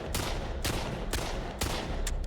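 Gunfire in The Last of Us Part II: several sharp, loud shots spaced about half a second apart, then a couple of quicker bursts near the end, heard alone with no talk.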